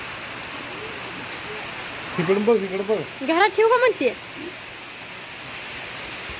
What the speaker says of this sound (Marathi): कसला पाऊस आला